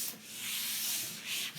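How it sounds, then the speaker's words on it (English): A board eraser rubs across a writing board during a physics lecture, a soft continuous scrubbing swish in a couple of strokes, close and fairly quiet with no talk. "I'll erase everything except for the equation"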